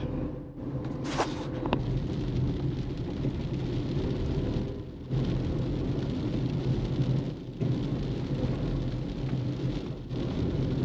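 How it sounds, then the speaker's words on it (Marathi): Heavy rain pours steadily near a temple outside Kamshet near Pune, a dense, constant wash of drops with a few brief dips in intensity and no voices. "तुम्ही बघू शकता पाऊस खूप जोरात आहे."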